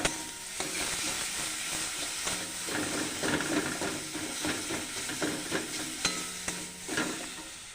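Spices and turmeric sautéing in a pan, a steady close sizzle with repeated scraping stirs of a spatula running throughout.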